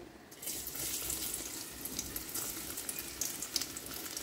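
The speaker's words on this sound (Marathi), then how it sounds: "सो आतां घालता हांव लसूण." Garlic dropped into about three spoons of hot oil in a pan, giving a steady, close, hissing sizzle that holds evenly throughout with faint crackles, no talking.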